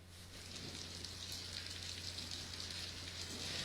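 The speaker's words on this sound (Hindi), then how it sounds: "अभी थोड़ी सी रफ्तार धीमी पड़ी है लेकिन मूसलाधार बारिश है" Heavy downpour at an outdoor farmers' protest site in cold winter weather, a dense steady hiss of rain that fills the whole stretch at even loudness, with no voices.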